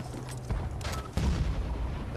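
Gunfire from a Battlefield Bad Company 2 match in the Atacama Desert, with loud close shots and bursts that swell into a heavier boom about halfway through, over a dense rumbling battlefield background.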